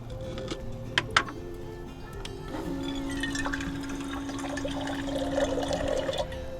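Drinking water runs from a dedicated supply fed by a 5-gallon reservoir in a camper van, a steady close trickle and gurgle after a few sharp clicks from the tap.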